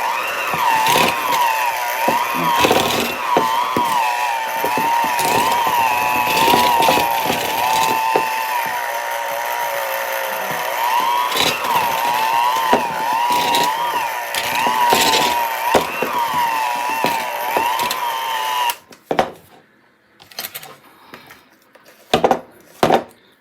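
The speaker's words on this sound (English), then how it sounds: "let's try and put that mixer back and see if it can do its job" An old electric mixer labours through thick peanut butter pie filling. Its motor whines and wavers under strain with knocking and clattering, then cuts out into scattered clunks near the end.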